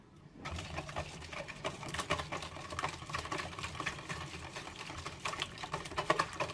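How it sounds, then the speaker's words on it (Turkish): Three eggs and cooking oil whisked briskly in a bowl for a baking recipe, a fast, continuous clattering and tapping of the whisk against the bowl, close and steady, no talking. "3 yumurtamı bir kıracağım. Sıvı yağımı ekleyeceğim. Bunları biraz çırpacağım."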